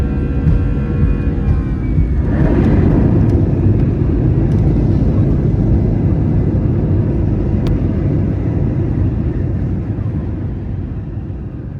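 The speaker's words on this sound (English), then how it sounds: "what you've just witnessed there is known as a rejected takeoff" An airliner's takeoff roll heard from inside the cabin, a loud steady engine roar that surges after about two seconds and holds through the abandoned takeoff, then eases slightly toward the end, with faint clicks and knocks over the rumble.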